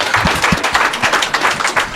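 An audience at a church gathering claps briefly; a quick, fairly loud patter of hands throughout, with no voices over it.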